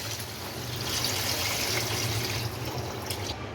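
Water from boiling chickpeas is poured into a pot of chana pulao, making a steady close splashing stream for a few seconds that tapers off near the end.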